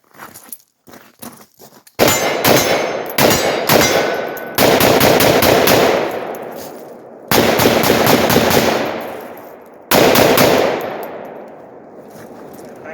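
An AR-47 rifle chambered in 7.62x39 fires several loud, close bursts of rapid shots with short pauses between strings, each ending in a ringing decay, with faint clinks in the quieter gaps.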